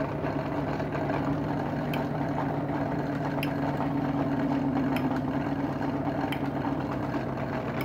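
A freely spinning stationary bike generator left coasting with no pedalling, giving a steady mid-pitched whirring hum with faint, regularly spaced ticks roughly every second and a half.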